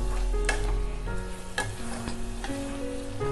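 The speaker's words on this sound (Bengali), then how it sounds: "এবারে আমি খুব ভালোভাবে সব কিছুকে কষিয়ে নেব।" Bengali alur dum spice masala being stir-fried in a pan with a little water, a steady close sizzle with scraping stir strokes breaking through at intervals, no talking.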